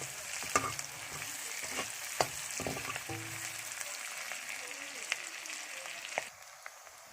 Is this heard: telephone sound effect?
no